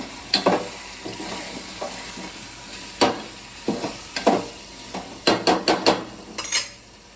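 Bread fries in oil on a tawa griddle with a low sizzle underneath, broken by sharp metallic clinks and scrapes of a utensil against the pan in short clusters, close by.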